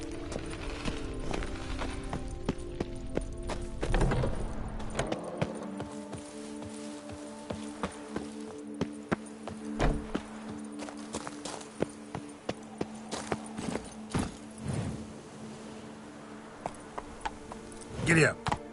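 Horse hooves in Witcher 3 clip-clopping in a steady walking rhythm, close and clear over a low background hum, with a voice speaking briefly near the start.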